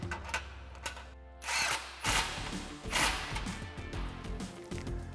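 A 15mm socket wrench ratcheting to snug down an exhaust clamp on a 2014-2022 RAM 2500 muffler install, close mechanical clicking and grinding in short uneven bursts, fairly quiet and without talk.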